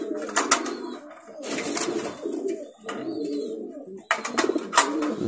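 Fancy pigeons coo close by in repeated throaty, rolling bursts, several birds overlapping in a loose rhythm with short pauses between phrases.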